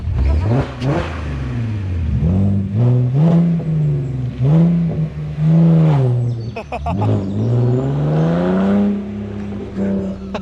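A Porsche Cayenne fitted with an aftermarket exhaust line revs repeatedly, loud rising and falling engine blips in quick succession close by, with voices in the background.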